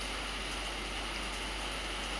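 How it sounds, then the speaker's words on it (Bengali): Steady rain falls outdoors on a windy night, a constant soft hiss of drops with no break and no voices. "বৃষ্টি পড়ছে।"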